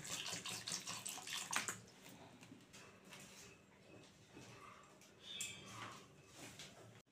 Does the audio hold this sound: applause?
no